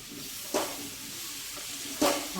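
Ridge gourd fries with chana dal and masala in a pan, giving a soft steady sizzle broken by two brief scraping stirs.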